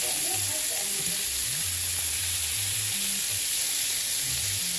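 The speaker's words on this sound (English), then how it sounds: "Let's flip the chicken, see what it's looking like." Chicken frying in a pan gives off a steady, close sizzle and hiss as it is flipped, holding at an even level throughout, with faint low tones in the background.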